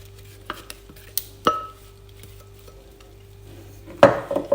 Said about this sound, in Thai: เราก็จะค่อยๆคนนะคะ ตะล่อมมาเรื่อยๆ ให้เขาเข้ากันเนาะ